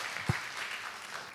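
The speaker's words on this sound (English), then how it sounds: "You can also acknowledge them and their presence by a round of applause." Audience at an art business conclave and awards ceremony gives a brief, moderate round of applause, a soft wash of clapping with one sharper clap near the start.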